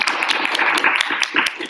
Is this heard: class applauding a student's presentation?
yes